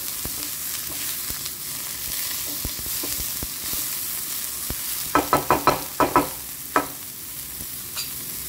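Cumin, onion and garlic fry in mustard oil with a steady close sizzle, stirred now and then; a quick run of sharp clacks from a spatula on the pan comes near the end.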